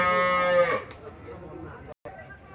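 A cow gives one long, close moo at a cattle market in Chauyara, Comilla, followed by low market chatter and background noise.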